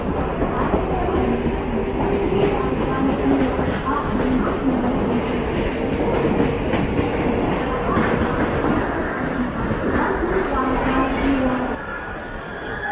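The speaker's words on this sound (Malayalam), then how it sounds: "അടുത്ത ട്രെയിൻ വരുന്നുണ്ട്, നമുക്ക് അതിൽ കയറി പോയേക്കാം." A Mumbai suburban EMU train rolls into Dadar station on Central Railway, a steady rumble and clatter of wheels filling the platform for about twelve seconds before easing off, with faint voices in the background.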